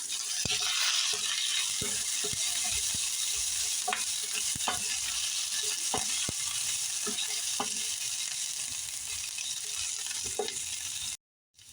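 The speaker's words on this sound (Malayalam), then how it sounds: "പച്ചമുളക്, വെളുത്തുള്ളി, കറിവേപ്പില ചേർത്ത് കൊടുക്കാം. ഇതിനെ നന്നായി ഒന്ന് മൂപ്പിച്ചെടുക്കാം." Green chilies, garlic, ginger and curry leaves sautéing in a pan for Kerala-style mango pickle, a bright continuous sizzle close by with scattered taps and scrapes of a spoon stirring, ending in a brief cut.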